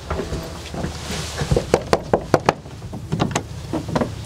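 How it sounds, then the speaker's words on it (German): Knuckles rap on a door, a close series of sharp knocks in two quick bursts with a pause between, followed by a few softer taps and faint background rustling. "Mal klopfen."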